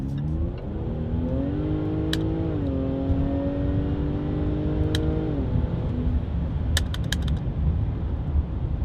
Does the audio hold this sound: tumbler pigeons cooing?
no